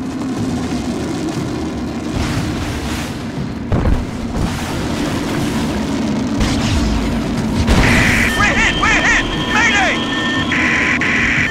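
Gunfire and explosions rip through an Aliens vs Predator game cutscene, with heavy booms and crackling shots under shouted voices and radio chatter, the blasts building toward the end.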